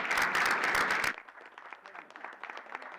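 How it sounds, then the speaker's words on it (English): Audience applause for a team at a school board meeting, a loud burst of clapping for about a second that cuts off abruptly, followed by scattered quieter claps and murmuring voices. "Let's give them all a big round."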